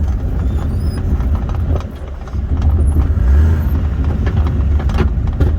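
Small Kei truck engine droning steadily while driving in a low gear, a continuous low rumble with a brief dip and then a rise as it revs, close and loud with no talking.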